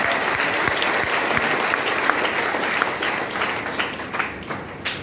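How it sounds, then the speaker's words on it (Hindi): A large audience of farmers at an RCM network marketing seminar claps loudly and steadily, a dense, sustained roar of hands that stays strong throughout before thinning slightly near the end. "एक बार ताली बजा दो जोरदार"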